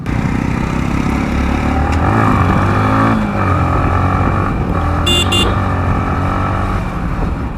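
A Yamaha MT15 V2 motorcycle being ridden on the road, its engine droning loud and steady with rising and falling revs and wind rush, close up, with no talking.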